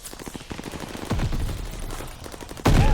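Shotgun fire in the online shooter Call of Duty: Vanguard, a dense burst of booming blasts and clatter with a heavy final shot, loud and close.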